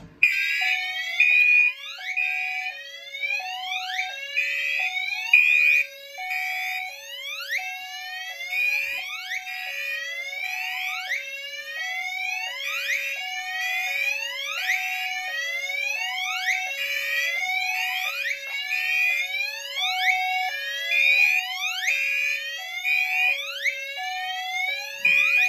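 A Fire-Lite MS-9600UDLS fire alarm system, activated from a Simplex 4099 pull station, sounds continuously with loud repeating electronic whooping sweeps over a steady pulsing tone, with no voices.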